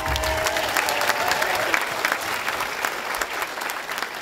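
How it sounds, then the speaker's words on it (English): A dance-show audience gives a big round of applause in a hall, loud and continuous, with dense clapping and a few cheers mixed in. "Big clap."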